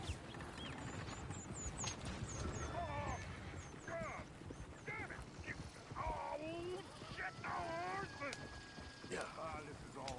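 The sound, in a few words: horse-drawn coach moving, from the video game Red Dead Redemption 2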